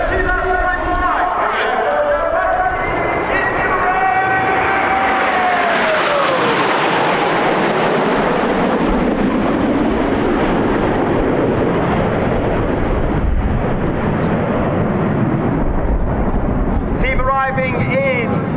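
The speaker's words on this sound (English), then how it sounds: "Arriving in formation, you can see there's actually only 8 aircraft today." A formation of eight aircraft arrives at the IWM Duxford Flying Finale air show, building to a loud, sustained broadband roar with a whining tone that sweeps downward as they pass.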